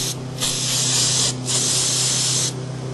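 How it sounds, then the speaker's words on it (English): Close metallic aerosol spray paint can hissing in three sustained bursts with brief pauses between them, over a low steady hum. "Very metallic spray paint."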